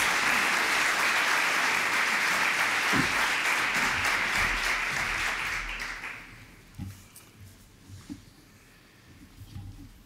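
A conference audience applauds to welcome the president of the Union départementale des papillons blancs, a loud, sustained clapping that lasts about six seconds before fading into scattered claps, footsteps and room noise.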